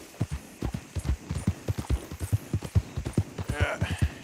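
Rhythmic clip-clop of horse hooves in Red Dead Redemption 2, a steady trotting gait close up with a faint low hum underneath and brief spoken remarks.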